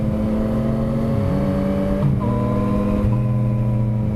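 A Yamaha FZ-09 motorcycle on light throttle, its engine holding a strong steady drone with a couple of pitch shifts like gear changes, loud and close throughout with no talk over it.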